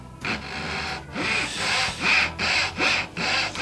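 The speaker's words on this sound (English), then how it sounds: "I push my saw the opposite way that it cuts to make just a little groove" Hand saw pushed backward across wood to score a small starting groove for dovetails, a close rasping stroke repeated about five times in a quick, steady rhythm.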